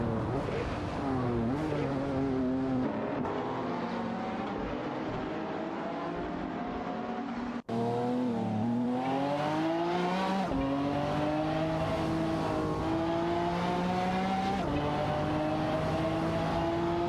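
Computer-controlled race cars in a racing video game, including a Lamborghini Murciélago, roar continuously with rising and falling engine revs and occasional tire squeal, loud and sustained with a brief cut midway.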